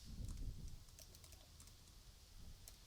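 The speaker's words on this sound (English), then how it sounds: "So let's type draggable contact form, text area" Fingers type on a computer keyboard in light, scattered keystrokes, close but faint in a quiet room.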